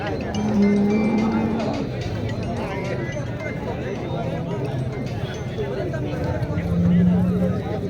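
Cows in a free-stall cattle shed give low moos in a steady hum of livestock noise, and people talk close by.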